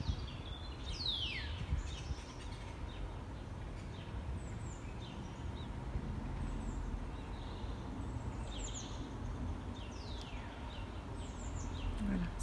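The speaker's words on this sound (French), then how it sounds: "On entend quand même beaucoup les oiseaux, puisque ce balcon donne sur le parc de la résidence." Birds chirping and calling over a residential park below a north-facing balcony, scattered thin tweets and short sweeping calls, fairly faint and distant over a low steady outdoor hum.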